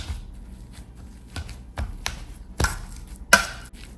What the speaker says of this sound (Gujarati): આ રીતે બધા બટાકા મેશ કરી દઈશું